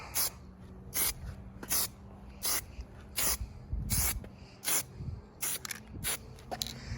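Short hissing bursts of spray paint, applied in light coats to a Porsche roll cage, repeat about every half second to second, crisp and close, with quiet handling noises between them.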